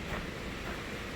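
A creek along the Virginia Creeper Trail near Damascus flows in a steady, broad rush of water noise that fills the short stretch evenly, with no voices.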